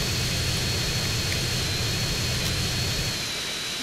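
Jet engine roar from the video game GTA San Andreas, a loud, steady, broadband rush with a deep low rumble, constant throughout with no speech.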